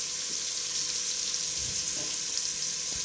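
Asafoetida dropped into hot oil for rava upma, giving a steady bright sizzle and crackle throughout with a few faint clinks, close and continuous.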